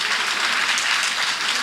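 Audience applause at a political announcement naming a presidential candidate in Senegal, a steady dense wash of clapping that holds without a break.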